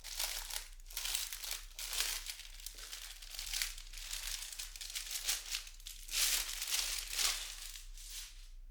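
Plastic packaging around a KiiP Y87 Bluetooth mechanical keyboard is unwrapped by hand, giving a long run of close, crackling crinkles and rustles that come in uneven bursts, with short quiet gaps between handfuls.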